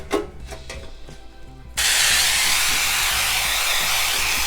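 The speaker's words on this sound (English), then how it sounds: "I just use this Kirkland canola oil spray" A few light taps, then a steady, loud hiss of Kirkland canola oil cooking spray continues for several seconds close by.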